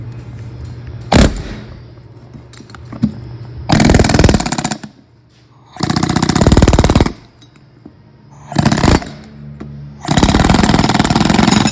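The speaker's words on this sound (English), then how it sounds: "So we're gonna hit it with the air hammer right here in this groove." An air hammer chisels at the pressed-in wheel bearing hub of a 2013 Toyota Venza, firing in loud, harsh rattling bursts of a second or two, separated by quieter stretches of shop noise.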